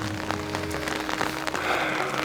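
Steady rain patters and hisses on surfaces nearby at a monastery in Bârsana, Romania, a dense continuous wash of drops with no voices.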